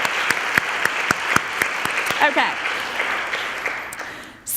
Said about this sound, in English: So big round of applause for everybody who made this happen.